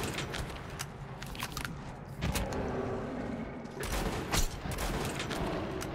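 Gunfire from the video game Metro: Last Light: rapid close bursts in uneven clusters, with short pauses and a few louder sharp cracks, and no speech.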